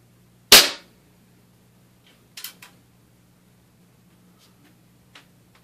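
A Daisy air rifle fires a single .22 wadcutter pellet with one sharp, loud crack at close range. A few faint clicks and taps follow in otherwise quiet surroundings.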